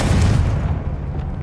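A Confringo spell explosion in the video game Hogwarts Legacy, played on hard mode: a single loud, deep boom that hits at once and then rumbles and fades over about a second.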